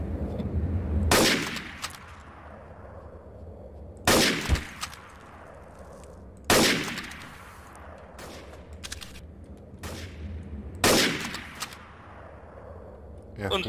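Four sharp bursts of gunfire in Minecraft Trouble in Terrorist Town, each a loud crack with a fading tail, spaced a few seconds apart over a low background hum.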